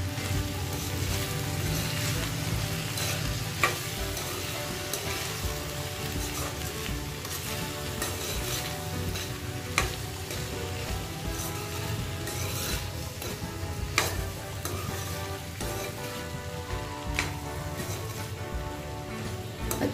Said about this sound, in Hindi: नमक को भी अच्छा मिक्स कर लेंगे।